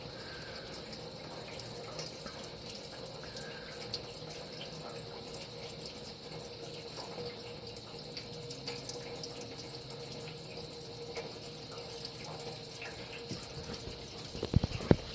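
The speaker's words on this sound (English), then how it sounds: "Straight gasoline coming out of the oil plug." Gasoline pours in a steady trickling stream from the oil plug of an EZGO Workhorse golf cart engine whose crankcase flooded through a carburetor fault, running continuously at a low level with a faint hiss and a few clatters near the end.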